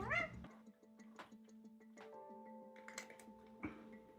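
Cat meowing indoors, with short, faint mews heard over soft ticking and quiet room noise.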